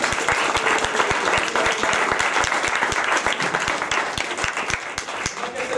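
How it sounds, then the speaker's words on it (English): Audience applause for a speaker at a Tesla talk, a dense steady patter of many hands clapping close by with sharp individual claps standing out, sustained at a loud, even level throughout. "Ladies and gentlemen, another round of applause."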